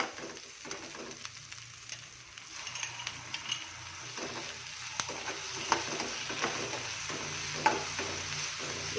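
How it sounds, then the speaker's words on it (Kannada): Ginger paste for veg paneer Kolhapuri fries quietly in a pan with a soft continuous sizzle and scattered light stirring clicks. "ಶುಂಠಿಗಳು ಪೇಸ್ಟ್ ಹಾಕ್ಕೊಂಡೆ ಅಂದರೆ ಹಸಿ ಸ್ಮೆಲ್ ಹೋಗೋಲಿವರೆಗೂ ಹುರ್ಕೊಳ್ಳೋಣ"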